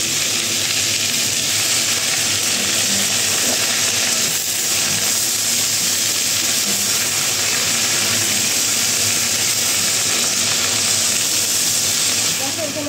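Spinach frying in a pan (kadai) with a dried red chilli tempering gives a steady, loud sizzle and hiss that runs unbroken, close up.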